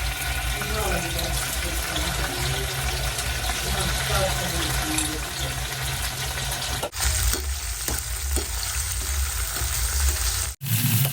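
Okra fries in oil in a wok with a loud, steady sizzle and hiss that runs all the way through, close to the listener. Scattered stirring knocks and scrapes come and go, and a voice speaks faintly underneath.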